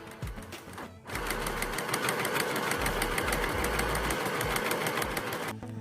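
A sewing machine stitches the elastic band casing of a thrift-flip bustier top. After a brief pause it runs steadily for close to five seconds in a fast, even mechanical rattle, then stops.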